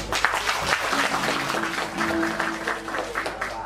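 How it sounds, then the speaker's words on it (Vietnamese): Audience applause at a southern Vietnamese bamboo flute gathering, a steady patter of clapping from a crowd lasting several seconds, with faint voices and a low musical hum underneath. "và trong một tràng pháo tay nữa đấy"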